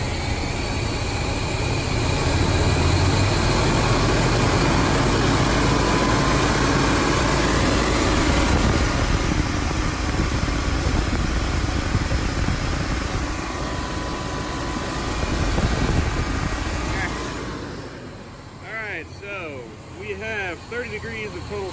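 A tuned car engine with mechanical and vacuum advance connected, idling steadily with a continuous low rumble and hum that fades toward the end, where a faint voice is heard.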